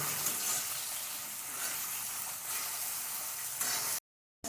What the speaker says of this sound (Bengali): টমেটোটা ভাজা ভাজা হতে হতে আমি